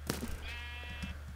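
A sheep bleats once in a video game, a close, clear, wavering cry in the middle of the clip over low game background noise and a few soft thuds.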